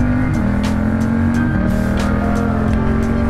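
A 2016 Yamaha FZ-07 crossplane twin motorcycle engine runs loud and close, with a steady throbbing drone and shifting pitch as it revs, wind rushing over it, no voices.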